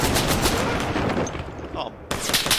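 Rapid gunfire in the game ArmA 3, dense overlapping automatic bursts that are close and loud, with a brief dip before another sharp volley, and voices shouting under the shooting.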